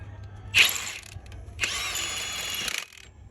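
Ratcheting torque multiplier tightening the brake drum nuts on a 2014 Freightliner Cascadia truck: two close, fairly loud bursts of rapid pawl clicking, a short one followed by a longer run, with no talking.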